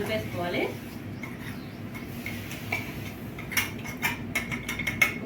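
Chicken pickle being mixed by hand with salt and chili powder, giving soft scattered clinks and light scraping with a few sharper taps near the end, over steady low background noise; a voice is heard briefly at the start.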